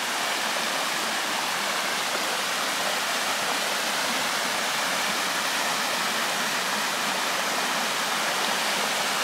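A stream flows beside a hiking trail in Mont Mégantic park near a waterfall, a steady loud broadband rush of water filling the whole stretch without voices.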